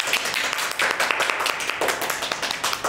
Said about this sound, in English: let's have a big, big round of applause for all those workers